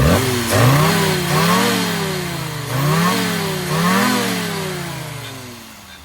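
A classic Bristol car engine with its carburettor being tuned revs up and falls back in several repeated throttle blips, each rising then sagging, loud and close with no talking.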